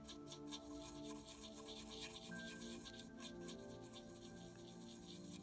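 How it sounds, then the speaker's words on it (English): A short-bristled brush scrubs rust wash off painted model railway paint with quick, faint, rhythmic rubbing strokes. The scratching is close but quiet, under a steady low background hum, and no one speaks. "we're going to scrub in there, and it's taking off some of that rust wash that we had"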